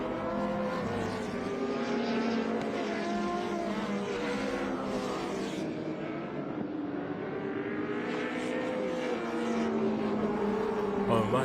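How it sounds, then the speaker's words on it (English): Toyota race car chasing two V8 cars around Sydney Motorsport Park during a race meeting, engines roaring loudly with shifting pitch as they pass, steady and continuous throughout. "I'm amazed how close the Toyota is keeping these two V8s in front of it."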